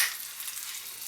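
Bacon sizzling in a pan on the stove, a steady, bright hiss of frying fat that stays even throughout the short moment, with no voices over it.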